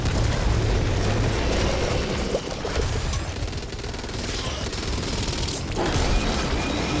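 Dense, continuous booming and rumbling with rapid gunfire bursts in the video game Back 4 Blood, loud and busy throughout, like an intense battle of blasts.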